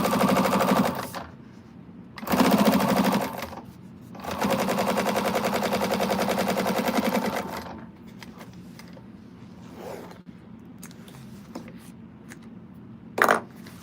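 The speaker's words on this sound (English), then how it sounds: "do your top stitch your lining sides, sewing it on the side of the lining, your top stitch" Sewing machine top stitching the sides of a quilted bag lining, running in two bursts, a short one and then a longer steady one of about four seconds. Quiet room sounds and small clicks follow.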